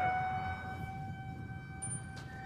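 A fire engine siren sounds at a fire in Kymi, a steady wailing tone that holds for a couple of seconds, clear and moderately loud with no talking.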